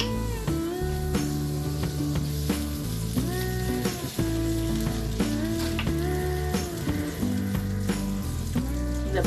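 Butter sizzling in a hot pan while cooking pav bhaji, a loud steady crackle and hiss throughout with occasional scraping stirs, no one talking.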